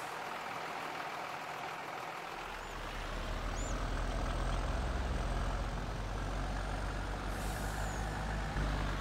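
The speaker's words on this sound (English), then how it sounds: "Bring in the dump truck." A dump truck pulls in at a storm-damaged property for tree cleanup, its diesel engine rumbling louder from about two seconds on and holding a steady, close idle, with faint hissy high-end noise and no talking.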